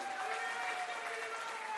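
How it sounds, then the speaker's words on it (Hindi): Audience at a national town hall event applauding, a steady, dense wash of clapping from a crowd filling the whole stretch without pause, fairly loud and close with a faint voice or tone running underneath. "इसके लिए कम से कम आप लोग ताली बजाइए"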